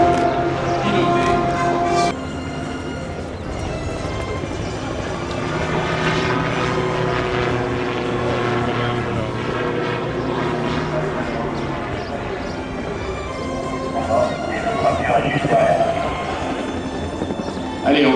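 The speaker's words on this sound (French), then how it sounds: "Allez, encore un passage du gyro." Gyrocopter passing overhead at the Biscarrosse air show: a steady droning rotor and engine roar that swells and holds throughout, with a French announcer speaking over a loudspeaker above it.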